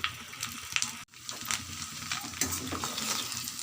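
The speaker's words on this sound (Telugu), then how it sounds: "ఇట్లా బాగా తిప్పేసుకొని అల్లం వెల్లుల్లి పేస్ట్ ఆ స్మెల్ పోయేంత వరకు బాగా డీప్ ఫ్రై చేసేసుకోవాలండి" Ginger garlic paste sizzling and frying in a pan while being stirred, a close steady crackle with scraping strokes of a utensil.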